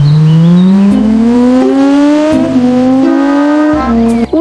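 An F1 race car engine revs hard and climbs in pitch through several quick gear changes, each step dropping the whine before it rises again, loud and close with no talk.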